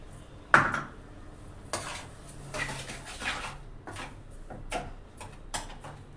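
Orange peel and sugar stirred in a pan for orange barfi, giving a sharp clank of a utensil at the start, then irregular scraping and light clinks against the pan.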